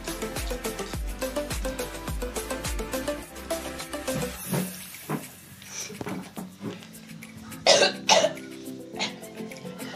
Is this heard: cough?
yes